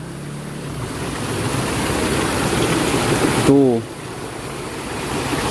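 Rushing river water pours steadily into a riverside fish pond, a loud continuous splashing wash that runs throughout, with a brief voice cutting in near the end.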